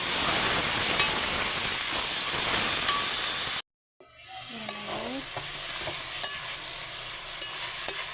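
Chicken pieces go into a pan of sautéing garlic and onion, a loud hissing sizzle that cuts off abruptly, then returns quieter with light stirring clatter and small scrapes.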